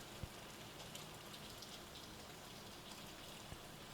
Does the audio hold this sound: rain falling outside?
yes